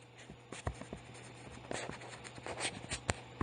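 A lecturer writes on a board during a managerial accounting class: a run of quick, uneven taps and short scratchy strokes close by, with a faint steady hum underneath and no talking.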